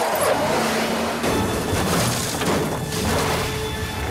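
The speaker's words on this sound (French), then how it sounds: "Alors regardez ce crash de bagnole." A car crash scene from an action movie, with an engine surge, a jolting impact and shattering debris, followed by a dense, rumbling clatter that fades slightly toward the end.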